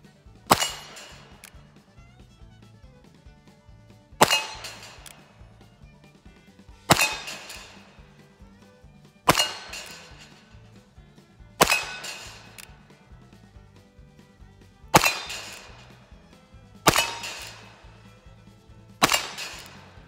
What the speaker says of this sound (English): We're gonna shoot at the 8-inch circles out at 20 yards.